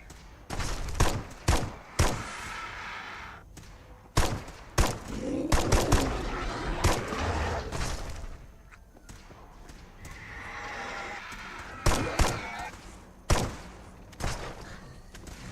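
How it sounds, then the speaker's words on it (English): Gunfire in the co-op shooter Helldivers: sharp, loud shots in scattered bursts and single cracks spread over several seconds, mixed with game noise and sparse talk. "Opening fire."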